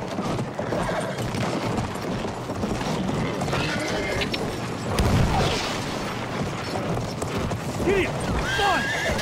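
A cavalry horse gallops in Battlefield 1, its hoofbeats and an occasional whinny running under mechanical clatter and game battle noise, with a louder burst midway.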